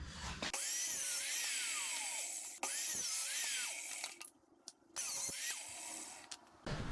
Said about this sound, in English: I'm going to adjust the saw to the 45-degree angle we need.